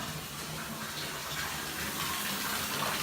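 Water runs from a tap into a sink to clean a vintage trumpet, a steady, close, even gush that holds constant for a few seconds with no voices over it.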